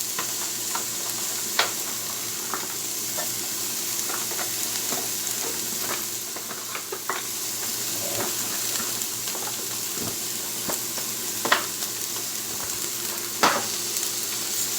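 Carrots and squash stir-fry in a pan over high heat, giving a steady loud sizzle broken by scattered clicks and scrapes of stirring, with no voices.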